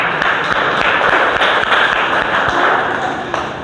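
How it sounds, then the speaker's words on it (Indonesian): Students in a classroom give a dense round of clapping for a presenting group, a busy patter of many hands at steady strength with faint voices mixed in. "tepuk tangan untuk kelompok 3"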